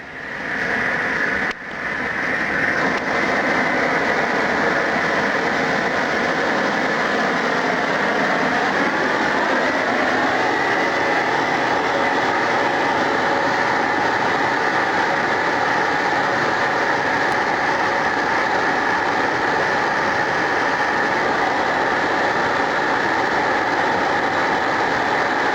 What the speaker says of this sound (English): put the torch into overdrive, put compressed air on it